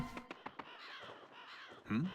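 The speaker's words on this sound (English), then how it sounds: "What's that? A storm of crows?" Crows caw in Fire Emblem: Awakening, several sharp repeated calls in quick succession followed by a louder, lower croak at the end, over a busy game background.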